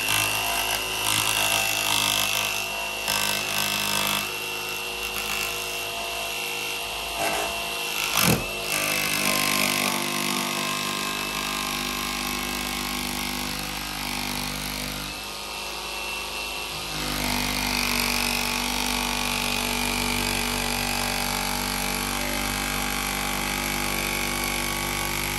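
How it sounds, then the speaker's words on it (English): Jigsaw cutting through a van roof during a roof vent install, a loud, steady buzzing saw drone sustained for the whole stretch with slight shifts in pitch and load. "now I'm switching to my weapon of choice, which is a jigsaw"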